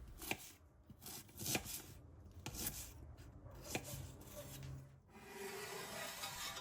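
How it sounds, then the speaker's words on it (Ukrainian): A knife dices an onion on a cutting board, a series of quick crisp taps in uneven rhythm, close and quiet, followed by a soft scraping sound. "Після чого нарізаємо цибулю кубиками."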